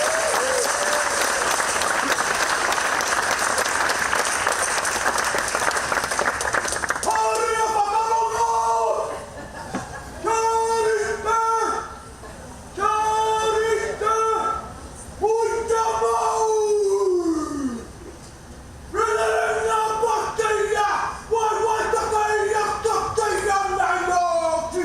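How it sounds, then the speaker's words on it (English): At an award ceremony, loud applause and cheering from the audience fill the first several seconds. A voice then speaks in bursts, with the crowd noise dropping between phrases. "let's give Dan a big round of applause in joining us this year"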